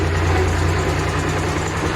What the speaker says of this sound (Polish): mamy ciągnik odpalony i lecimy